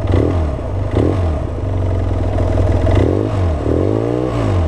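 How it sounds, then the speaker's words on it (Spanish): A BMW F800 ST twin-cylinder motorcycle engine with an Arrow exhaust idles and revs with a lumpy, throbbing beat, close up and steady, with no talking. "Suena a bicilíndrico."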